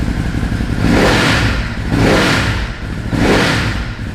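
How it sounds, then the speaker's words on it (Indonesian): A Ducati Hypermotard 950 L-twin Testastretta engine revs hard three times in a row after a cold start, each throttle blip rising and falling with a deep, loud, rough exhaust roar between. "ini adalah mesin cold startnya dari mesin Ducati L-Twin Testa Stretta tadi"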